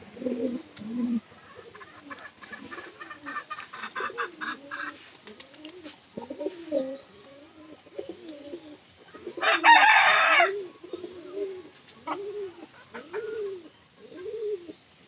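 Pigeons cooing in a loft, repeated soft throaty coos in a steady rhythm, close by, with a short burst of louder noise partway through and a rooster-like call at the start.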